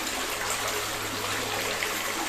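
Spring water flows steadily from a forgotten holy well fed from Salisbury Plain, a constant close hiss of running water without talk.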